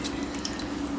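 A spoon works through goat milk cheese curds in a pot, giving a brief, soft wet squish and a few faint drips, close and quiet, with no talking.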